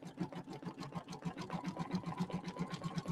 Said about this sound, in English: Satin stitching, no matter what you do, it takes a little bit.